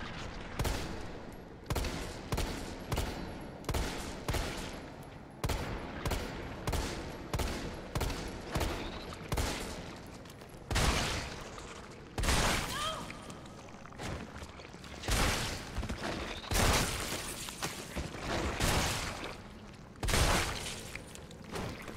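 Rapid, repeated gunfire in the video game Resident Evil 3, including shotgun blasts, keeps up for over twenty seconds in steady bursts with heavy booms and clatter, loud and close.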